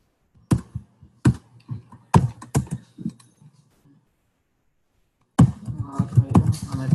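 A password is typed on a computer keyboard: a handful of close, crisp key taps in an uneven rhythm, a pause of near silence, then a denser run of clattering keystrokes.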